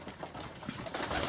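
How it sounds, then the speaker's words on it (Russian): Domestic pigeons in Barnaul coo softly in short, repeated murmurs, close but quiet, with light rustling around them. "Ой, какие хорошие у меня голуби, а?"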